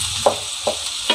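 Spices being stirred as they fry in a pan, a soft constant sizzle marked by three short scrapes of a spoon, each spaced about half a second apart.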